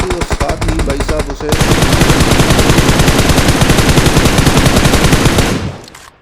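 PUBG Mobile gunfire in a video game: a few single shots, then a long loud automatic burst of rapid rounds at close range that cuts off abruptly near the end.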